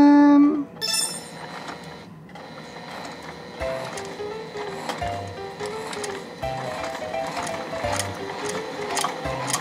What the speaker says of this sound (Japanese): だいぶ分厚いやつも縫えますね